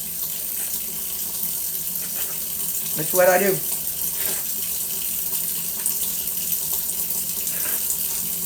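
A kitchen tap runs steadily into a sink, a continuous wash of water broken by a brief gurgling splash, while a person speaks briefly over it.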